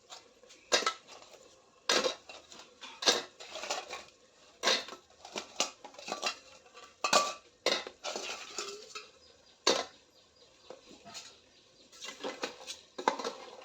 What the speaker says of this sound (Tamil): சுத்தம் பண்ணி வச்ச நண்டு அப்படியே எடுத்து போட்டுற வேண்டியதான்